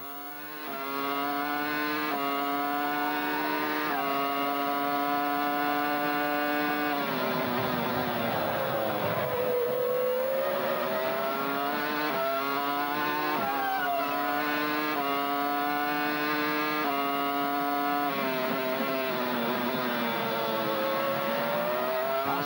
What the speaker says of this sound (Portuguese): Saúde do motor BMW da Williams de Montoya.